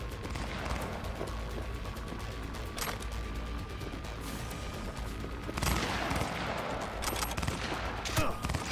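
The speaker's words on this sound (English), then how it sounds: "Who's fucking shooting me?" Sustained gunfire in Cyberpunk 2077, a dense volley of shots running throughout with sharper bursts near the end, loud and close.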